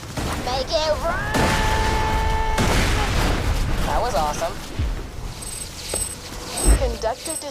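Explosives placed on safes aboard a train detonate in the video game Borderlands 2, with repeated deep booms and crackling blasts amid whistling game effects, while voices talk over the action.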